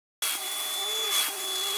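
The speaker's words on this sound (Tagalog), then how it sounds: "Siguro naman ay wala ng dust mite na matitira dito dahil sobrang lakas itong ating vacuum." Cordless vacuum cleaner running over a bed to remove dust mites, a steady close motor whine that starts abruptly and holds at an even level with a slight surge midway.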